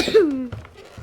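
A single short cough from a nearby person, with a faint voiced tail, then quiet room sound.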